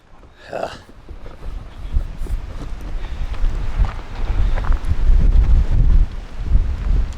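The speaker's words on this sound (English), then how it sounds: "It is cold and windy" Gusty wind buffets the microphone outdoors, a low rumbling roar that builds and stays strong, with faint rustling mixed in.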